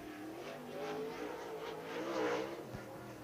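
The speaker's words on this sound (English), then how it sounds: "Double nickel race car with a Clements race engine," A dirt-track race car powered by a Clements race engine at West Virginia Motor Speedway, its engine droning and revving in waves, rather faint and distant with no speech over it.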